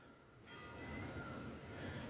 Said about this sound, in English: Bell's going off crazy.